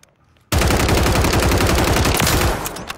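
Rapid automatic gunfire from a gun in a video game, bursting in suddenly after a near-silent start and hammering on loudly and continuously to the end.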